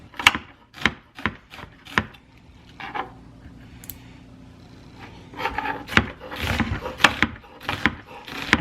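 A knife chopping onion on a wooden board: a run of crisp, evenly spaced chops up close, a short quieter pause with soft rubbing, then a faster, denser burst of chopping.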